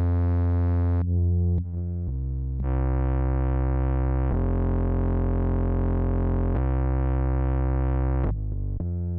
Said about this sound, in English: You put it on punish mode to really get that distortion.